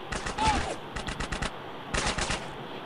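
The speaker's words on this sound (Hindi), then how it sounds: "और इधर से फायरिंग हो रही है सामने से" Gunfire in the video game GTA San Andreas, with three quick bursts of automatic shots in the first half, middle and end, fairly faint and heard alone.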